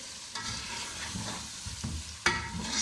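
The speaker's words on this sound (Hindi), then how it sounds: "टमाटर डालने के बाद इसको फ्राई करते जाएंगे" Tomatoes frying in a pan for Multani chicken shorba, a continuous close sizzle broken by a few scraping stirs and one sharper knock of the spoon on the pan.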